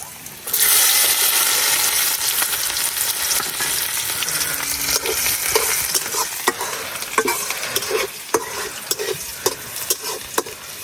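Whole cumin seeds and chopped garlic frying in hot oil for an egg and lentil curry, a loud bright sizzle that bursts in and settles into steady crackling with sharp spattering pops, close up and without talk.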